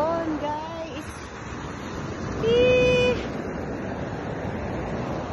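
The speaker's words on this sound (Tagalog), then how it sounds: "ang lakas ng alon, guys" Strong ocean waves at Shatti Qurum beach in Oman in the early morning: a constant rushing wash of surf with a brief swell of louder breaking, while a person talks over it.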